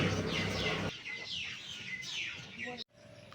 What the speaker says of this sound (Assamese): চাৰিওফালে কেৱল চৰাই চিৰিকটি মাত।